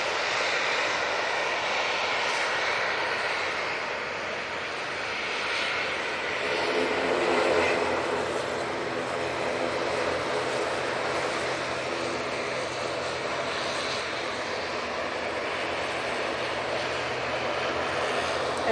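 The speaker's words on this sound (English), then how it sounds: "ATR 42 going back to Inverness" An ATR 42 turboprop airliner bound for Inverness roars steadily at Manchester Airport, a loud sustained propeller-engine drone with a slight swell midway, no voices over it.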